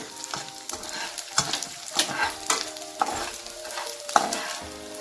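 Edible gum (dink) frying and puffing up in a pan for a winter chikki, a steady crackling sizzle broken by repeated stirring scrapes, close and fairly loud with no voices.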